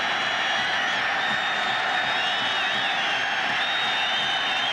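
A packed ballpark crowd at Game 5 of the 1997 World Series, Florida Marlins at Cleveland Indians, producing a dense, steady roar of cheering and shrill whistles that fills the space, loud and unbroken, with a faint commentator voice beneath.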